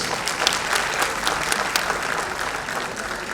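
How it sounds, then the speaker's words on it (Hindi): Audience applause at the Dadasaheb Phalke Award ceremony, a dense, sustained roar of many hands clapping at constant loudness, with some sharper individual claps standing out. "मोती सागर जी और शांति सागर जी के लिए जोरदार तालियां बजाइए प्लीज।"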